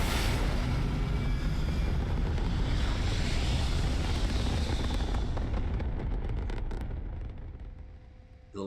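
A spaceship in Starfield takes off with a loud, dense roar of engine rumble and rushing noise that holds steady and then fades away over the last few seconds, ending with a faint tone.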